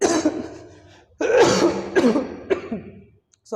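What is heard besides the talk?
coughing and throat clearing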